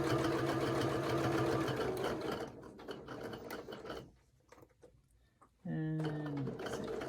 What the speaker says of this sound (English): Sew down the side.